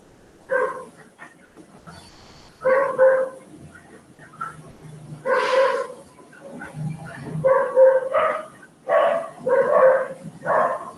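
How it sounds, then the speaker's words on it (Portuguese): An angry dog barks in short bursts and clusters at close range, with pauses of near quiet between volleys. "O cachorro tá bravo."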